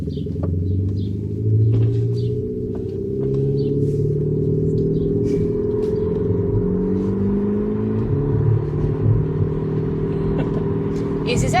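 A low, rumbling exhaust-like drone from an electric car's active sound exhaust, set to a closed-valve normal exhaust mode, shifts and swells in pitch as it accelerates, steady and close throughout.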